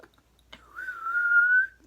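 A woman whistles a single sustained, slightly wavering note for about a second, close and clear in a quiet room, preceded by a soft breath.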